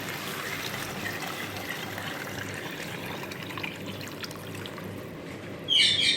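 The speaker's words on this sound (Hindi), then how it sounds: "इसके बाद आपने इसके अंदर तकरीबन 1 लीटर पानी शामिल कर देना है।" About a litre of water poured into masoor dal frying in a pan, a steady soft trickling hiss throughout, with a louder splashy burst near the end.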